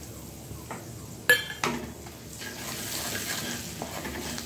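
Spices, dried red chillies, salt, turmeric and chilli powder drop into hot oil in a pan, giving a sharp burst of clattering and sizzle that settles into a steady frying hiss with light stirring.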